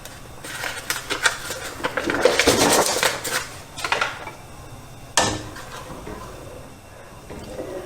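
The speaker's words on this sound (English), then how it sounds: "I'm going to add my powdered Sure Gel and thoroughly mix that in" Powdered Sure Gel pectin is stirred into a pot of blackberry jam mixture, with close clattering of a utensil against the pot in uneven bursts and scrapes and a sharp knock partway through.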